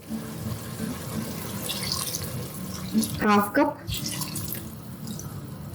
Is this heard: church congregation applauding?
no